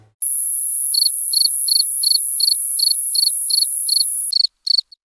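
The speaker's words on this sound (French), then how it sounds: "vous avez déjà écouté des grillons chanter" Crickets of a species that lives in the Paris Métro chirp loudly and very close, a piercing high trill broken into evenly spaced pulses, with no other sound behind it.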